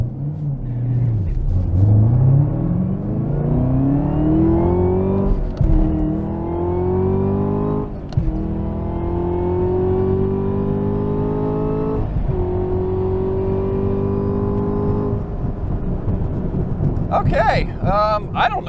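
A Chevrolet Camaro ZL1 1LE launches down a quarter-mile drag strip, its engine roaring as it climbs through the gears with several rising sweeps and brief shift dips, loud and close throughout.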